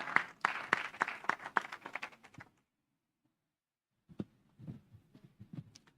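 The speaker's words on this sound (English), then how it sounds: "give him a round of applause" Scattered applause at a World Maritime Day conference session: a few distinct, fairly faint claps in an irregular run, a pause of near silence, then a handful more isolated claps.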